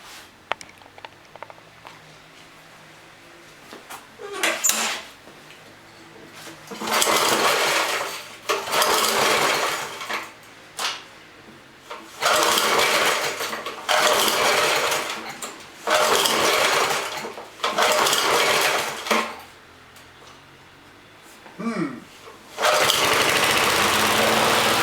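A pull-start lawn mower engine catches and runs in loud roaring bursts that cut out and restart, each stretch lasting a few seconds, between quieter gaps with faint clanks nearby.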